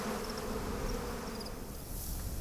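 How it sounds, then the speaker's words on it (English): Buzzing insect swarm from thrown bees in the video game Massive Chalice, a steady hovering drone with faint high whines, continuous at moderate level throughout and no talk. "So we'll just throw bees over there."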